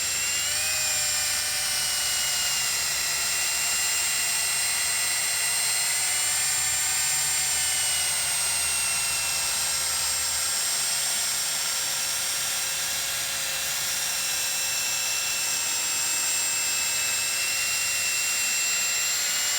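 A drill spins a polishing pad at moderately slow speed, sanding a car headlight, giving a steady high-pitched whine that holds nearly unchanged throughout, close and loud with no talking.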